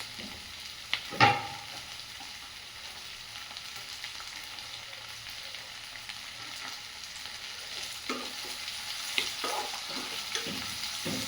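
Vegetables for Bengali-style chowmein sizzle and fry in a pan, faint and steady, with a sharp scrape of stirring near the start and a few more soft stirs later, no talking.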